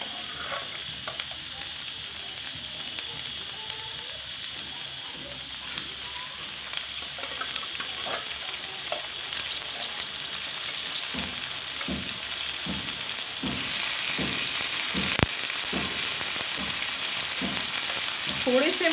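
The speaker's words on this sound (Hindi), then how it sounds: "इसीलिए मैं प्याज एंड जो हमारे आलू हैं वो साथ में ही डालूंगी।" Sliced onions and half-boiled potatoes fry together in hot oil in a pan, giving a steady close sizzle that grows busier toward the end, with scraping stirs and no talking.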